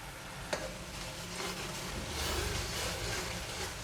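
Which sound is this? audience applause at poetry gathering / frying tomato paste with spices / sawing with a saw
frying tomato paste with spices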